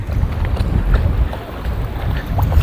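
A small fishing boat sits on a river during traditional local fishing, with a low rumble of the boat and water and gusts of wind buffeting the microphone. Faint voices are barely present.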